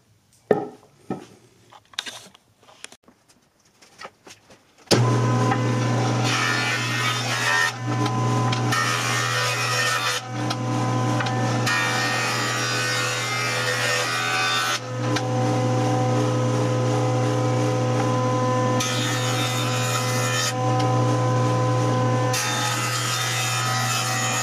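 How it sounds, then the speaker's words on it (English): Jointer and planer milling a wood blank for a farmhouse dining chair leg, a loud continuous machine roar with rougher cutting passes surging and easing, after a few seconds of scattered knocks and handling sounds. "I'm going to joint one face and joint one edge."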